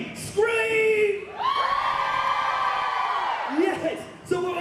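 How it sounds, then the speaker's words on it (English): Live comedy show audience whooping and screaming in response to a call from the stage, loud sustained crowd yells swelling for several seconds before fading, with a fresh burst of shouts at the end. "I said somebody, anybody, everybody, scream!"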